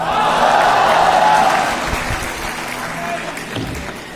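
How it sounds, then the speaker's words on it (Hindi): Applause from a college audience welcoming a Hindi lyricist on stage at GL Bajaj in Noida, a dense, loud wash of clapping that gradually thins and fades over several seconds. "ये जो तारीफों भरी तालियां बजाकर आपने मेरा स्वागत किया"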